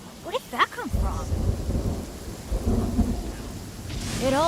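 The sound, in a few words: thunder and rain in video game Genshin Impact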